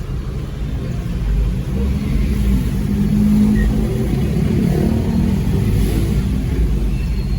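Heavy city street traffic, with cars rumbling and accelerating close by, heard from inside a vehicle as a steady loud low engine and road drone.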